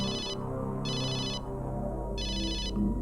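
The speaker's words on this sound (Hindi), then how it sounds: "बार बार फोन आ रहा है।" A phone ringtone rings in three short repeated bursts, loud and close, with a low hum underneath and no talking.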